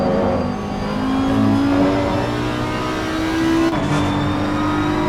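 GT3 race cars, a BMW and an Audi, roar steadily in a sim racing game on the Paul Ricard circuit, a continuous loud engine drone with rising pitch and a brief shift near the end, no voices.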